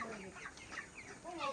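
Chickens at a small poultry farm, a batch of 32-day-old birds, cluck and chatter faintly in a soft, overlapping flock murmur.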